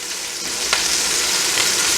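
Beef braciole searing in a hot pan gives a loud, continuous close-up sizzle with a brief scrape partway through, and no talking.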